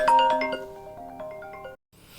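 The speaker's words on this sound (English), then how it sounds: "was my phone that was ringing." A mobile phone rings with a melodic, bell-like ringtone, a few bright chiming notes that sustain then cut off abruptly, moderately loud and close, with no talk over it.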